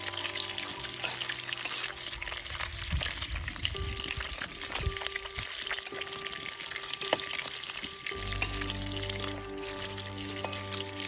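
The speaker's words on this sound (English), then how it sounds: "You have to be very careful while you cook the prawns or fry the prawns." Prawns marinated in salt, pepper and lemon juice fry quietly in a pan, giving a soft continuous sizzle with scattered crackles and occasional stirring scrapes, and a low rumble toward the end.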